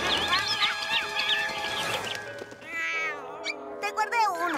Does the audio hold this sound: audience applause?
no